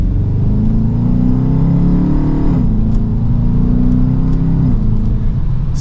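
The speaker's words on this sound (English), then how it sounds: "You get to enjoy that V8 rumble." A 2023 Dodge Charger RT Daytona's V8 engine rumbles steadily as it accelerates, a deep, loud, continuous drone heard from inside the car, with pitch shifting at two gear changes.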